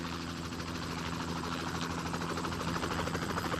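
A cartoon helicopter drones continuously with a steady rotor chop and engine whine, holding fairly even loudness throughout with no voices over it.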